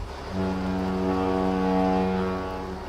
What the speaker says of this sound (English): The engines start, we sail on.